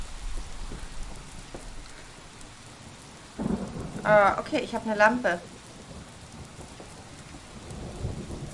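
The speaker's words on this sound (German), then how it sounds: "es gewittert draußen" Thunder rumbles and rain pours steadily outside in the video game DECA, with a louder crackling burst of thunder midway and a voice talking briefly over the storm.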